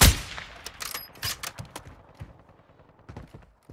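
Enemy gunfire in an online shooter game: a sharp shot opens, then scattered bursts and single cracks at middle distance fade into sparse, quieter pops.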